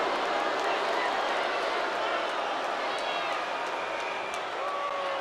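A virtual arena crowd in the WWE 2K20 wrestling game cheers and roars during a match, a constant dense wash of noise at steady volume with a few brighter shouts rising out of it.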